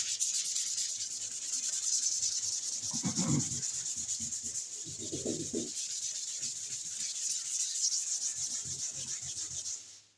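Continuous hand sanding rubs over body filler on a hail-dented car panel, a close, steady scratchy friction that carries on evenly before cutting off at the end.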